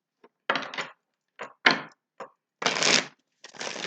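Tarot cards are shuffled in several quick bursts, riffling and rustling with short pauses in between, close and clear.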